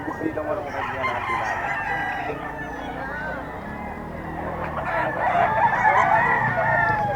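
A Sweater Hennie gamefowl rooster crows loudly and close at a busy gamefowl market, with clucking and other fowl around and people talking in the background.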